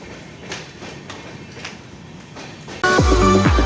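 A train at a railway station is heard as a low, quiet background rumble that suddenly swells into a loud, close rush with tonal screeching for the final second.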